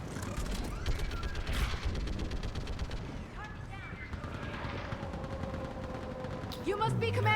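Incendiary ammo gunfire rattles in the video game Mass Effect 3 during the battle on Rannoch, rapid bursts of shots over a busy battle din, with game voices and effects mixed in.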